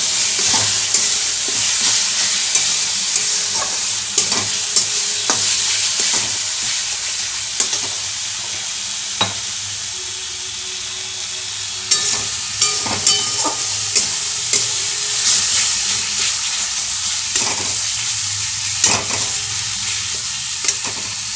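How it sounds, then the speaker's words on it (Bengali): A masala of Kashmiri chili powder and salt sautéed in a hot pan, with loud, close frying sizzle and repeated rhythmic scrapes and knocks of a spatula stirring it, pausing briefly midway. "দিয়ে মশলাটাকে ভালো করে কষিয়ে নেব।"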